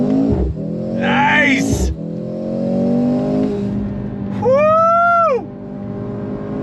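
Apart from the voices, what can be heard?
Mercedes-AMG C63 S E accelerating in race mode with paddle shifts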